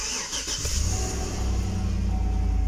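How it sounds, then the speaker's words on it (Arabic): A car engine cranks and catches, then settles into a steady low idle. "ولا حاله شغل السيارة ولا فيها صوت أي طقطقة أو تكتكة."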